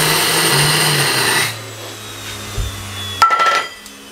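Electric grinder coarsely grinding spices: a loud, harsh whirring grind for about a second and a half, then a lower hum as it winds down, followed by a few rattling clatters.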